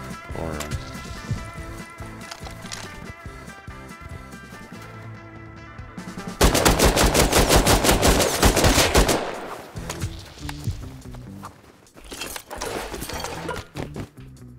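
Rust video game combat: scattered gunshots build into a loud, sustained burst of automatic fire lasting several seconds, then fade to quieter shots and movement noises, with no voices.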